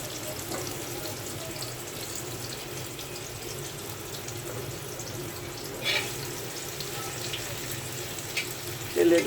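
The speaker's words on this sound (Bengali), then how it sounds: "আমি আগে আলুটা তেলের উপর ভেজে নিচ্ছি, হলুদ মরিচ লবণ মাখিয়ে নিচ্ছি" Potatoes coated in turmeric, chili and salt fry steadily in hot oil, giving a continuous dense hiss and sizzle at an even, moderate level with a few brief louder bursts.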